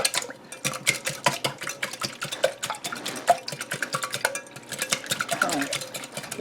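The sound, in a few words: whisking eggs in a bowl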